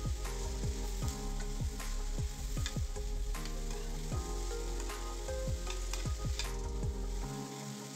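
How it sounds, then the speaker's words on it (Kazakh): Tripe and carrots sizzle loudly and steadily in a hot pan. Repeated scraping stirs and clinks of a utensil sound close by. "Бұны да қуырып аламыз сәбізбен бірге."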